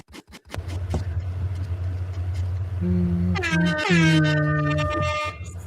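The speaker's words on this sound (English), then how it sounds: "Gotta throw the air horn in there before we get up out of here." An air horn sound effect blares in long sustained tonal blasts, layered and loud, over a low steady rumble, with a short percussive start before it.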